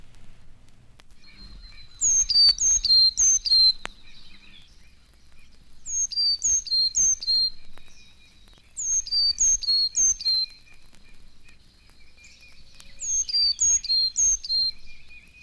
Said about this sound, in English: 4 repetitions of the chickadee's Pito call at normal speed are now given